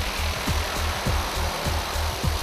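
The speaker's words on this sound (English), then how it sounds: "To access the slope for anchoring, heliportable drilling rigs are used." Steady mechanical drilling of a heliportable drilling rig into a rock slope, with a rhythmic thumping pulse about every half second over continuous broadband machine noise, fairly loud and close.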